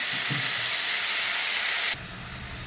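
Red amaranth greens hit hot oil tempered with black cumin seeds and a bay leaf, giving a loud, close, steady hiss that drops abruptly to a quieter sizzle partway through.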